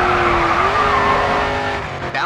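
A car in the racing game GRID 2 drifts through a corner on a Chicago riverside track, its tires squealing loudly over a high engine whine that holds steady and then drops away at the end.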